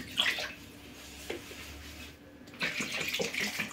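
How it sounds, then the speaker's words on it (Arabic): Water splashes and trickles in short pours into a bowl of flour, salt, sugar and yeast for dough, fairly quiet with a brief pause midway and no talking. "ندير الماء"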